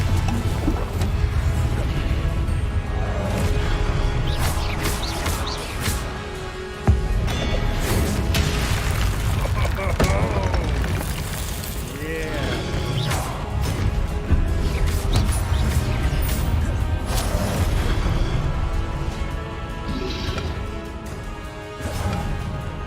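Repeated magical spell blasts and crashing impacts from Confringo and other spells in the game Hogwarts Legacy, loud booms over a continuous busy mix of effects and background music.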